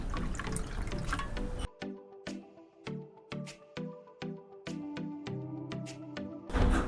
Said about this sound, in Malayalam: അതിനായിട്ട് മുരിങ്ങയിലക്കകത്തോട്ട് ഇച്ചിരി വെള്ളം ഒഴിക്കാം